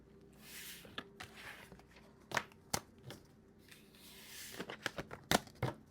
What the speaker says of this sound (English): So, Kipper cards. Let's give these a quick shuffle.